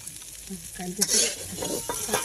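Eggplant pieces tipped into hot oil for a home-cooked Bengali dish with neem leaves, a burst of sizzling after a brief clatter, then steady frying crackle close by.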